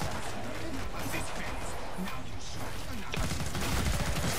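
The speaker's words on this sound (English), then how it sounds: "I have an area of effect gun" Area-of-effect gun firing in Killing Floor 2, a dense continuous barrage of blasts and crackling gunfire throughout, with a heavier burst near the end, loud and close amid game noise.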